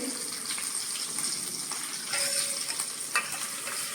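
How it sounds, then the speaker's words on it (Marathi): Oil sizzles and crackles steadily in a hot pan as curry leaves and a chilli are tempered, a bright continuous hiss with a few sharper pops, no talking. "ही फोडणी तयार केली"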